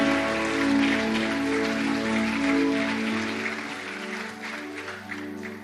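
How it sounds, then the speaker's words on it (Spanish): A church congregation applauds the Lord in sustained, dense clapping over held musical tones, with the applause tapering off toward the end. "Denle un aplauso"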